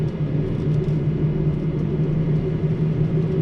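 A Nissan NV200 camper van climbs a steep hill, its engine a steady low drone and rumble heard from inside the cabin, continuous with no pauses.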